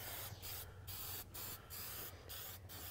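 Spray paint hisses onto a Peterbilt truck part in repeated short bursts with brief gaps between them, a steady close-up aerosol spray with a low hum underneath.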